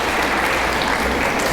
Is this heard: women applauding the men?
yes